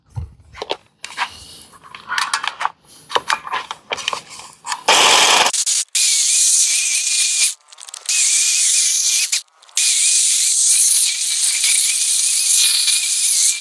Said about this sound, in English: We're just gonna see if it's still working by trimming this hedge.